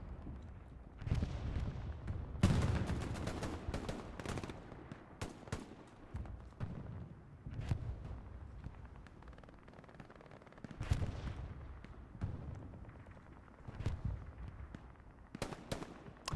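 Gunfire in a 49 versus 49 Hell Let Loose battle at Stalingrad, with sharp rifle and machine-gun shots cracking irregularly, some close and loud, others distant, and bursts clustered throughout.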